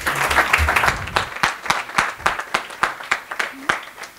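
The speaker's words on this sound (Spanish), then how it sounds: "un aplauso para la mesa" Conference audience applauds a panel, a busy burst of many claps at first that thins into scattered, distinct individual claps fading out, with a little voice in the opening moment.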